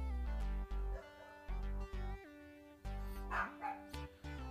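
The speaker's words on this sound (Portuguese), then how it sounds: "o cachorro tá latindo lá fora." A dog barks repeatedly outdoors, loud sharp barks in a rapid irregular series with short yips and whimpers between them, heard close and alone without talk.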